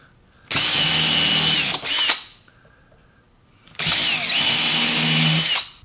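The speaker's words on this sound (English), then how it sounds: "We have set our countersink bit to allow us to put a screw there" A power drill with a countersink bit bores into a wooden crosscut sled in two loud, close bursts of steady whining, the first about one and a half seconds long and the second about two, with a short quiet gap between them.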